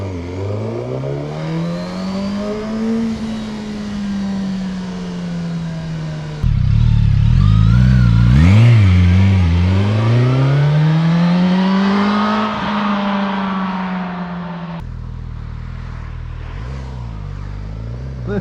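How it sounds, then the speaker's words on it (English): A motorcycle engine revs hard nearby, its pitch rising and falling through several bursts of throttle, loud and unbroken by talk. "that is a proper traditional Suzuki roar"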